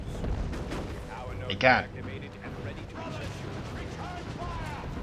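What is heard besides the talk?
scout shotguns firing in Dawn of War 2 video game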